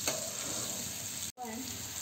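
Paneer cubes sauté in a pan with red chilli powder and garam masala, giving a close, steady crackling sizzle that cuts out briefly before resuming.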